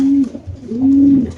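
A BRPFC racing pigeon coos at close range, two low, throaty coo phrases with a brief pause between them, clear and alone.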